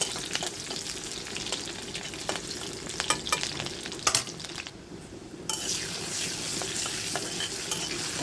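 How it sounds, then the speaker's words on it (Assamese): Sliced onions fry in hot oil while a spoon stirs and scrapes the pan, giving a continuous close sizzle broken by frequent metallic clinks and scraping strokes, with a brief dip in the middle. "পিঁয়াজখিনি দি ভাজিছোঁ মই এতিয়া।"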